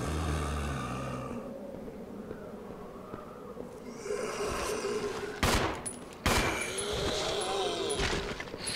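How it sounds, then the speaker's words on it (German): Gunfire in Resident Evil Zero HD Remaster inside a mansion, with a few sharp shots cutting through a quiet, tense background ambience with low creature-like breathing and snorts. "Ich verschieß die zwei Schüsse"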